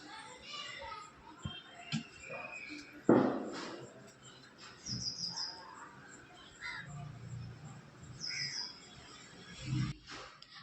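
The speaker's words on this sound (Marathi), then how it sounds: "पक्ष्यांचा आवाज बघा किती छान असा ऐकायला किती छान असं वाटतो." Morning birds chirp around a balcony overlooking the view, faint short high calls scattered through the clip under children's voices and household sounds.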